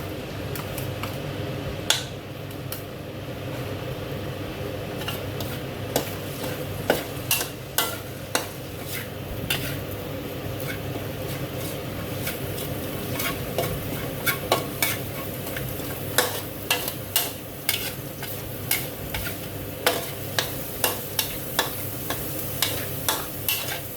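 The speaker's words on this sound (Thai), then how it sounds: "ตำเอาลงไปผัดให้หอมๆค่ะ" Garlic crushed in a mortar sizzles as it is stir-fried in a hot pan, a steady frying hiss broken by frequent sharp spatula scrapes and clacks against the metal.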